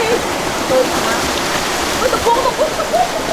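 A steady roar of falling water from a forest waterfall fills the whole clip, loud and close, with a few faint whistly sounds above it.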